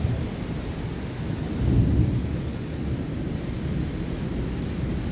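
Steady heavy rain from a thunderstorm is joined by a deep rumble of thunder that swells and rolls in the middle before settling back into the constant downpour.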